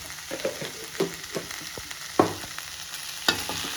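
Beans frying in a pan, a soft sizzle broken by irregular scrapes and taps of a spoon stirring them, close up with no talking.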